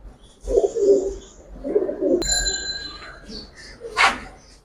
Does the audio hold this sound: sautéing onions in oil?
no